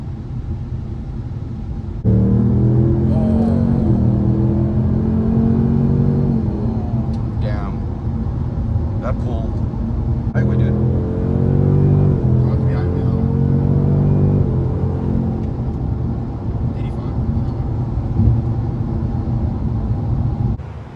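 A 2024 Ford Mustang GT S650 is being driven, its engine a low, continuous rumble that climbs and falls as the revs rise, heard from inside the car beneath people talking.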